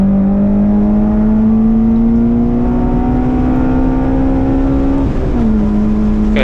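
Honda-engined Volkswagen GTI race car on a circuit, engine droning loud and steady close by as revs climb slowly, then a brief dip at an upshift before pulling on again.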